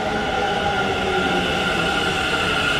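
A train pulling into Kintetsu Nipponbashi station in Osaka, giving a steady, loud rumble and hum inside the station. The drone is continuous and has no clear wheel clatter or talking.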